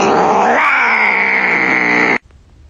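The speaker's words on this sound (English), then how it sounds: "That was a cat. That was a cat." A cat lets out one long, loud, drawn-out yowl that cuts off abruptly, leaving quiet room noise.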